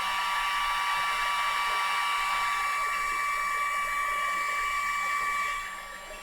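Heat gun heating metal for bending, a steady high-pitched whirring blower hiss with a faint whine, close and constant before tapering off at the end, with no talking.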